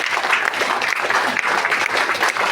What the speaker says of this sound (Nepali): हामी सबैले जोरदार ताली बजाउनेछौँ